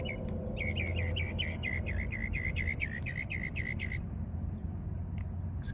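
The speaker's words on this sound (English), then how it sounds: "Just gonna have this stupid bird talking over me" A bird chirps indoors in a rapid, regular series of bright, repeated notes for several seconds, then stops, leaving a low room hum behind.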